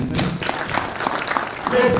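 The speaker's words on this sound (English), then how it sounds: "Let's clap for ourselves" Audience applause at an open distance e-learning symposium: a short spell of diffuse clapping from a seated crowd, with a voice talking over it.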